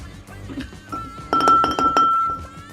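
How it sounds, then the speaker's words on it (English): Mint leaves being muddled in a cocktail glass, with a few sharp clinks of glass and a short burst of grinding, pressing sounds, close and fairly loud, no talk. "as you twist and as you're pressing it down, you're starting to grind up the mint leaves as well"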